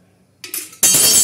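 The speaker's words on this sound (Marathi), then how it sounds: "झाकण ठेवणार आहोत." A metal lid set onto a cooking pot of cauliflower curry, giving a soft knock followed by one loud, bright clink and rattle right up close.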